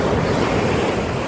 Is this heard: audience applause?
no